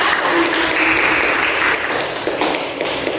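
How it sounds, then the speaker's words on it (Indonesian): A fourth-grade classroom applauds a student group after a science presentation. Busy, continuous clapping from many small hands fills the room loudly for about three seconds. "Beri tepuk tangan untuk mereka."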